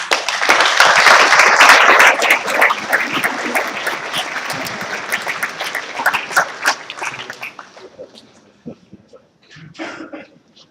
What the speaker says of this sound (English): I think you all deserve a round of applause for this case study